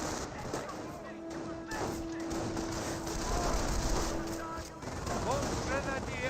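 Machine gun bursts and scattered gunfire from the WWII strategy game Company of Heroes 1, a dense continuous battle din with a commentator talking over it.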